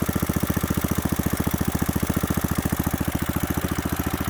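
A rebuilt Kohler K91 small single-cylinder engine idles steadily and close by, its rapid, even pulsing running throughout with no talking.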